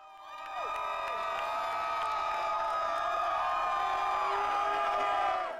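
A big arena crowd at the Carrier Dome in Syracuse cheers loudly and steadily for Carmelo Anthony at an NBA basketball game, with whoops and high shouts layered over a sustained roar that swells and holds.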